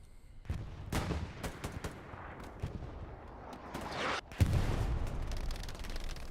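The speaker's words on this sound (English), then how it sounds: "Artillery shots coming in. Big shells." Artillery shells land in the Hell Let Loose video game as a series of sharp, booming blasts with irregular spacing, followed by a heavier, louder impact and rumbling near the end.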